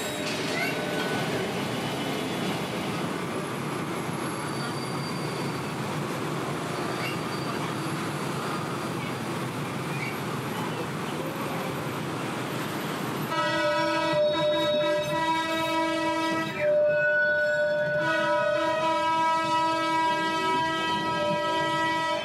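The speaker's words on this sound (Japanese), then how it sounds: "けたたましい汽笛音とともに列車が走り出す。" A locomotive-pulled single-car train in Cambodia rumbles steadily nearby, then sounds a loud, sustained horn blast several times as it moves off. Faint voices sit in the background.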